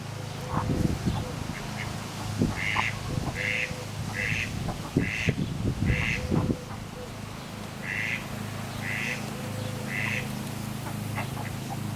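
A female duck gives repeated quick quacks in two runs, mid-distance, alongside scattered knocks and rustling over a low steady background rumble.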